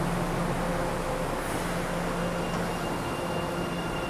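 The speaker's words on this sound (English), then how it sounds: "There's your subway station." Constant broadband rumble and hiss of a subway train, with faint steady tones running through, loud and unbroken throughout.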